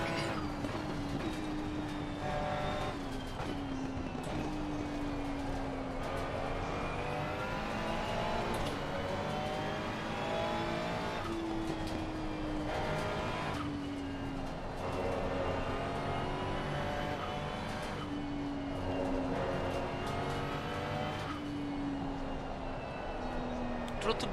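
Several GT race car engines in Assetto Corsa Competizione, including turbocharged types, drone steadily through the whole stretch, with rising and falling pitch sweeps as cars shift and pass, under continuous talk.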